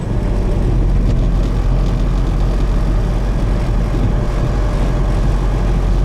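A 4BT Cummins diesel swapped into a Ford F150 rumbles steadily from inside the cab at light throttle, a loud, constant low drone with road noise and no talking.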